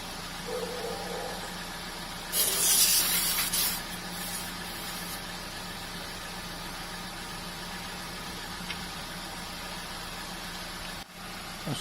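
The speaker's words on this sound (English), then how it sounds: "Let me put the pump on. So it fills up pretty fast." A Bergmann Typhoon analog tyre inflator pumps air into a car tyre, a steady close mechanical drone with a loud hissing burst of air early on, running alone without talk.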